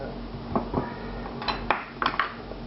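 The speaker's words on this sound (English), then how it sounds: "Stir this together" A liquid mixture for smoked lamb kebab being stirred in a bowl, with a few sharp metallic clinks and taps of a utensil against the dish, close and fairly quiet.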